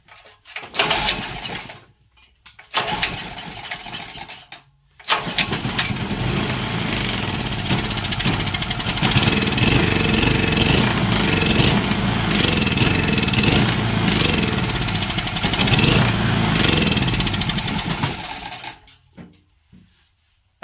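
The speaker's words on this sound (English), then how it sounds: "is not the healthiest sounding engine" A small, unhealthy-sounding generator engine sputters a couple of times, then starts and runs steadily with a buzzy rattling drone before cutting off.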